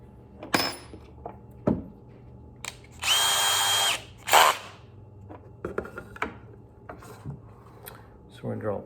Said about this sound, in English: So we're going to drill a pilot hole here.